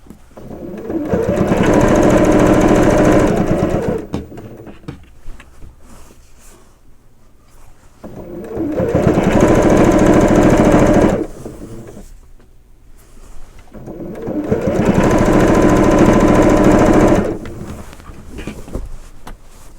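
A sewing machine stitches straight binding onto a quilt in three separate bursts, each a few seconds long with a loud, close, steady mechanical whir and short quiet pauses between runs.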